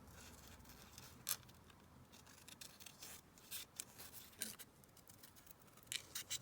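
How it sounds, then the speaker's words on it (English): Scissors snip through a paper picture cut from an old book page, a quiet run of small crisp cuts and rustles spaced irregularly, close to the ear. "So let me just cut this out."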